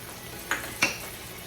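Garlic and tomato paste cook with softened vegetables in a pan for a meatloaf sauce; a faint low sizzle sits under two brief scraping stirs of a utensil, all at close range.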